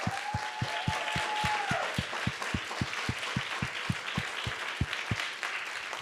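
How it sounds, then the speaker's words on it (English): Applause from an audience celebrating student innovators at an education summit showcase, a dense steady wash of many hands filling the whole stretch, with a regular low thumping beat running underneath and a brief tone near the start. "Please join me in a welcoming round, a round of applause to celebrate and acknowledge the incredible work these young people have done"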